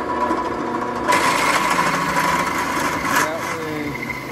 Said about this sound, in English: all you're doing is drilling out that dimple